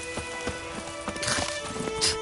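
Roach the horse galloping in The Witcher 3: Wild Hunt, rapid rhythmic hoofbeats with a faint whinny over a humming game soundtrack.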